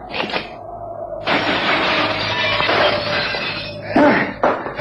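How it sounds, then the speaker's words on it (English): Man jumping through a glass window in a radio drama, a loud crash followed by a sustained spray of shattering, tinkling glass and a final thud, close and prominent with no talk. "I'm going to simply jump through the glass."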